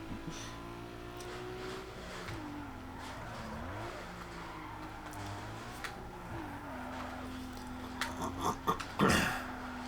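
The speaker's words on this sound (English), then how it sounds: "Dude, he's got that drift game down pat. Look at that drift." A drifting street car in Need for Speed Underground 2 holds a steady engine drone with wavering pitch and long tire squeal, then gives rougher bursts and skid noise near the end, loud and continuous with no talking.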